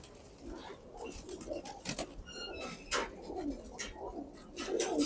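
Pigeons kept by a breeder coo softly and repeatedly at close range, with the low throaty calls overlapping in an irregular rhythm alongside a few faint chirps.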